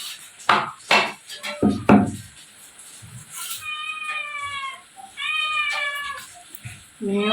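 A cat meows repeatedly on a farm, several clear drawn-out cries in the middle and end, after a few sharp knocks of kitchen chopping or clattering and brief speech.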